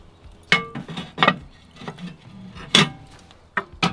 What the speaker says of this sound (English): To make this an indirect cook, we're gonna install our half moon deflector shields.